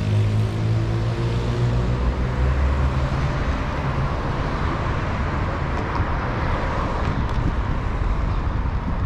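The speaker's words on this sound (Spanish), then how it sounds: "No sé qué tanto me pueden escuchar por el tráfico" Street traffic roars along Avenida Insurgentes in Mexico City, close to Parque México and a Metrobús route, as a loud, continuous rumble of passing vehicles with wind buffeting the microphone.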